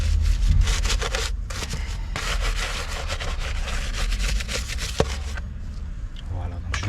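Underside of a car wheel cover scrubbed after spraying GS27 rim cleaner, a brisk, continuous scratchy brushing with quick back-and-forth strokes close by and one sharp click near the end.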